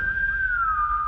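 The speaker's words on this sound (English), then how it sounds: "I whistle at it" A person whistles once to call a creature, a single clear whistle about a second long that sweeps slightly downward in pitch, close and alone in a quiet room.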